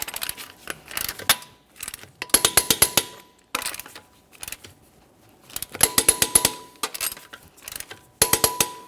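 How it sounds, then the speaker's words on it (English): A torque wrench tightens the front wheel nuts on a GMC Acadia, giving repeated bursts of rapid ratcheting clicks separated by short pauses, close and crisp, with no talk. "We're going to torque both side front wheels to 140 in a crisscross manner"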